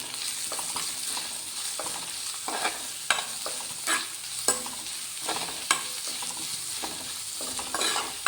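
Onions fry in a pan while a spatula stirs them in a regular rhythm of sharp scrapes over a constant close sizzle, with no voices.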